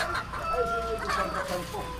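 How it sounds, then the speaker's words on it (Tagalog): Chickens cluck steadily against a noisy outdoor background, with overlapping calls rising and falling over a couple of seconds. "Ito yung manok namin ko dala."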